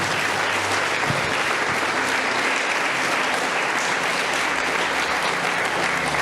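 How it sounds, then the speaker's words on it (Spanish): A church congregation celebrating its 60th anniversary applauds during a sermon. Thick, continuous clapping from many people sits close and loud, holding steady for the full six seconds. "Dale un aplauso al Señor, amén."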